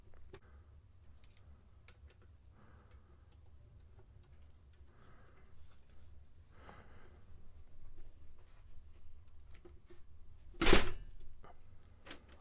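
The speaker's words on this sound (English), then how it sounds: "let's see if we could actually loosen a bolt" A wrench with an extension works a bolt loose on an alternator, giving faint scattered ratcheting clicks in a quiet space and a sharp loud crack near the end.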